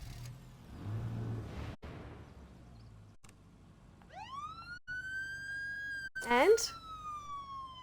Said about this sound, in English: I'm going to turn the sirens on and make a whole lot of noise.